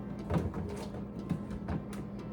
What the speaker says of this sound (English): We're going to put that in the drawer.